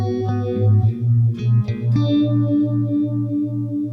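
Electric guitar chords and notes, drenched in chorus and echo, played in a short phrase with sustained ringing tones and a few quick picked accents.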